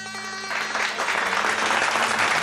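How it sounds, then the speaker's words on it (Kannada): Studio audience on a Kannada TV couples game show breaks into loud, sustained clapping, building after a brief musical sting and holding steady to the end. "ಎಲ್ಲರೂ ಚಪ್ಪಾಳೆ ಹೊಡಿಬೇಕು"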